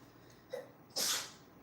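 A single close, sharp sneeze bursts out after a brief soft intake of breath, loud against a quiet room.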